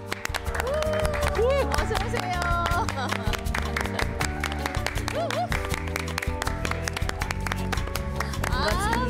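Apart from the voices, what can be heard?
audience applause welcoming guests on TV show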